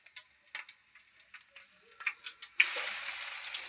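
Onions hit hot oil with a sudden loud, steady sizzle, preceded by faint scattered ticks and crackles from the heating oil.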